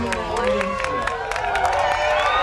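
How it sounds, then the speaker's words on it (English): A crowd cheers and shouts with excitement outdoors as the shadow of the total solar eclipse of August 21, 2017 approaches near Idaho Falls, a steady wash of many voices and whoops at moderate loudness throughout. "Crowd is getting excited."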